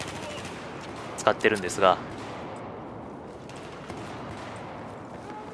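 Desert Eagle pistol fire in Battlefield 4 on a pistol-only server: a short cluster of sharp shots in quick succession, followed by quieter background game noise, while someone talks in Japanese.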